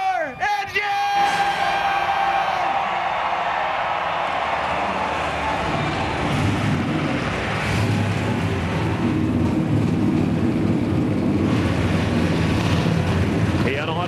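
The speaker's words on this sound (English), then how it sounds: "Gentlemen, start your engines!" NASCAR Cup stock car engines fire up at the 2012 Texas race, a loud broad roar swelling and holding steady while the crowd cheers and yells over it.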